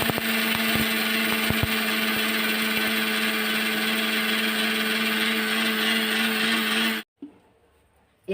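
An electric grinder powdering roasted mustard and fenugreek seeds, a loud continuous whirring motor with a few rattling knocks at first, running steadily for about seven seconds before switching off abruptly and going quiet.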